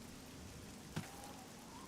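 Steady rain falls in the fantasy video game Oblivion during a stormy spell, a soft continuous hiss with one brief louder patter, quiet and even throughout.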